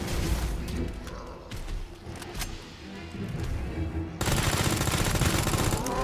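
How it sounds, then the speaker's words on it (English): SMG fire in the video game Resident Evil 2 Remake, rapid bursts of automatic shots over a dense, loud game soundscape, with a sharp surge of continuous firing near the end. "Got the SMG out now, so we can hit him with a few shots out of that."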